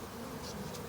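Bees buzzing near a beehive during a spring installation, a faint continuous hum of many insects at close range, brief and steady with no voices.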